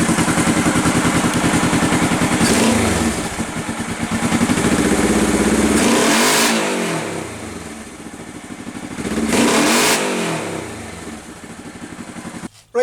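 A hard-tail bobber motorcycle with rejetted carburetors and K&N filters revs up and settles back to idle three times. Each blip swells into a loud, rasping, clattery burst before dropping away.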